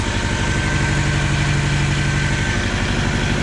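Honda Civic engine idling after sitting untouched for eight years, with a sticking idle air control valve: a loud, steady, close rumble with an even low throb throughout.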